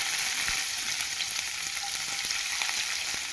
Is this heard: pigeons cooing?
no